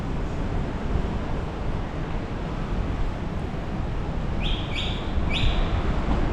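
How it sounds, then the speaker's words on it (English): Small birds chirping on Braganca Street in Taipa, Macau: a few short high chirps near the end, fairly faint over steady loud street and wind noise. "I got some birds over here."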